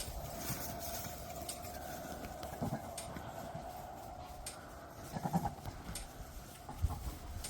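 A ewe bleats in a sheep pen during winter breeding season, with a few wavering calls close by over low rustling and occasional hoof clatter.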